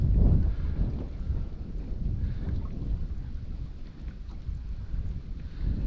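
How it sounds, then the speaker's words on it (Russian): Strong south wind on the shallowed Pechora River during a fishing trip buffets the microphone in a continuous low roar, rumbling and gusting steadily throughout, with no voices. "Слишком сильный южный ветер."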